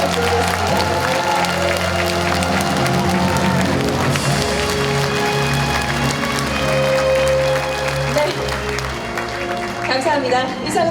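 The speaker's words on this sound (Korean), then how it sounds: "다시 한번 큰 박수 부탁드리겠습니다." Applause and crowd noise fill a hall at the close of a public talk concert in Uljin, a dense, loud, continuous clapping wash mixed with music and an amplified voice throughout.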